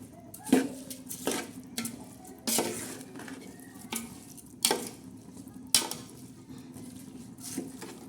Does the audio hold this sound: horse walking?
no